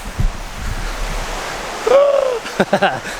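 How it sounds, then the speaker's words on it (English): Whitewater rapids on the River Wharfe near the Strid in Yorkshire, where the river narrows, give a steady broadband rushing roar that swells near the end. A short whistle-like tone and a few brief voice fragments sit on top of it. "It's a little bit whitewater rapids now."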